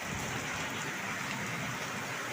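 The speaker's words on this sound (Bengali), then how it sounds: "অঝড় ধারায় বৃষ্টি নেমেছে।" Heavy monsoon-style rain pours steadily during a thunderstorm, a dense continuous hiss of drops drumming on surfaces, close and unbroken, with no voices.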